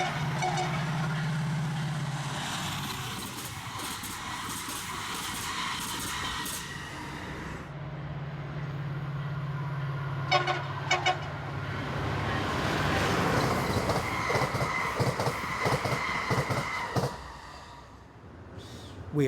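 A Penn Line commuter train, number 33 on service 412 in Maryland, rumbles past nearby with a steady roar and clattering wheels, while brief horn toots cut through partway along.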